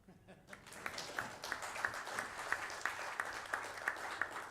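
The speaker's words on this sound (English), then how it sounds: "I do think we in the aviation ministry deserve a round of applause for getting rid of baggage stamping" An audience at an airport investments summit applauds in a steady wash of clapping, with a few sharper individual claps standing out at a regular pace and some crowd murmur underneath.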